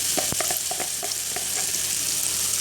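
Chili paste frying with softened tomato for Malaysian mamak-style mee goreng, a dense, loud, constant sizzle up close, punctuated by quick rhythmic spoon taps and stirring scrapes early on, no voices.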